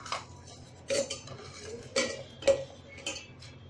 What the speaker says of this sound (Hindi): और बाकी के सारे बिस्किट इस ब्लेंडिंग जार में डाल दे रही हूँ।